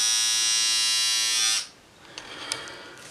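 An electric shaver buzzes loudly and steadily at close range for about a second and a half, then switches off, leaving faint handling clicks and rustling.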